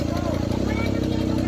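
A fish vendor's motorcycle engine chugs at a fishpond, a steady close pulsing idle with voices talking over it.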